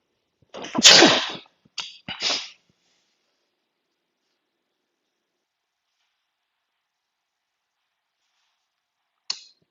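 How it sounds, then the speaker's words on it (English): A single sharp sneeze with a short breathy follow-up, close and loud, then near silence apart from a faint click at the end. "Oh, I got to sneeze."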